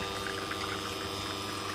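Espresso machine pulling a Sainsbury's Taste the Difference Kenyan single-origin shot on a Bantam at 2-3 bar, a steady close pump hum with liquid flowing, continuous and alone for under two seconds.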